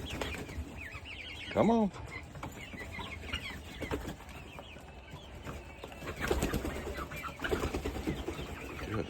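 Chickens on a farm make a burst of clucking and rooster-like calls near the start, with scattered bird chatter, wing flaps and a person urging them on in the background.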